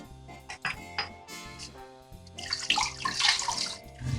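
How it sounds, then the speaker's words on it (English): A shaving razor rinsed under running water after a head shave, heard as a close splashing tap stream with a few light clinks, starting softly and swelling into a fuller gush. "And give it a nice rinse."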